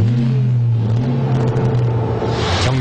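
Hyundai Excel car starting and accelerating, a loud steady engine hum whose pitch climbs with a rising whir and rumble, heard alone for about three seconds.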